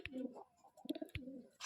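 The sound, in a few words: Andhra pigeon cooing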